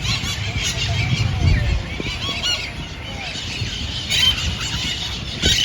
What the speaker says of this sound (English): They're green parrots.